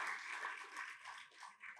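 Brief burst of audience applause at a Hindi poetry gathering (kavi sammelan), a steady patter of many hands clapping, faint and somewhat distant.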